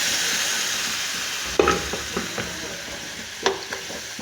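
Beef and its cooking juices tipped into a hot pan for a Kerala-style beef roast, a steady close sizzle and bubbling with a few sharp scrapes and clinks of a spoon stirring against the pan.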